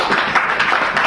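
Audience at a university special session in Patna bursts into a brief, dense patter of clapping that stays even and steady throughout.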